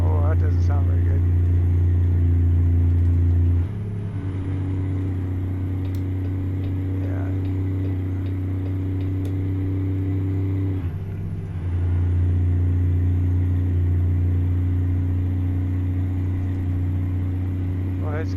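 Truck engine idling and faltering in American Truck Simulator, a modded white Western Star with a suspected fuel delivery problem, steady low rumble that dips and surges unevenly, with someone talking over it.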